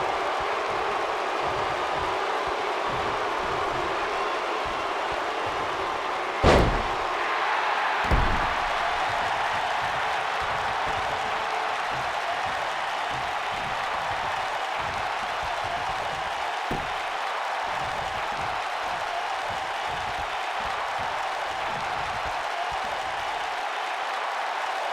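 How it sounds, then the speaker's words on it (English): Steady roar of an arena crowd cheering in the WWE 2K19 wrestling game, a continuous broad wash throughout with two sharp impact thuds near the start and a few faint thumps. "by the sound of this crowd, I think they're getting what they wanted"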